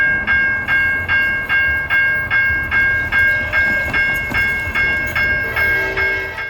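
A freight train passes at Plant City, Florida, with a steady rhythmic clickety-clack of wheels over rail joints, repeating regularly under a continuous rolling rumble.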